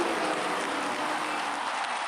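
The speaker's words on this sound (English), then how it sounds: "Let's get a round of applause, though." Steady applause comes from a live show audience as a brief, even wash of clapping that keeps a constant level throughout.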